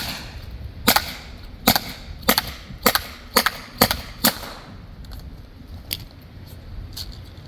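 A Byrna CL launcher fires inert chemical/kinetic rounds from a 7-round magazine at a head target about 20 feet away, producing sharp, loud pops in an uneven series, seven close together then a few more spaced out, no talking.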